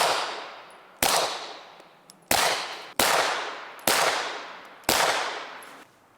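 Six sharp 9mm pistol shots, ball and jagged hollow point rounds, strike a ballistic plate from five yards, each a loud crack with a decaying ring, spaced about a second apart outdoors.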